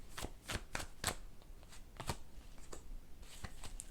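A deck of tarot cards is shuffled close by, producing a series of quick soft riffling bursts and taps spread unevenly across the moment, fairly quiet with no talking.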